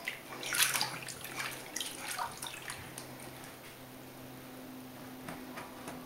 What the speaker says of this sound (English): Splash, splash, splash in the bathtub.